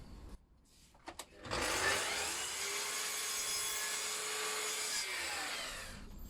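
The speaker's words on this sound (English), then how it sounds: "I'm going to cut this mitre on this end first" A saw cuts a mitre on the end of wooden door beading for alcove cupboard doors. A few light knocks come first, then a loud, steady whining cut runs for about four seconds before winding down.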